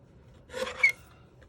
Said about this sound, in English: I love these little guillotine trimmers.